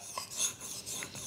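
A plane blade rubbed across a sharpening stone gives soft, close rasping strokes, a couple of brief scraping passes in a short quiet stretch.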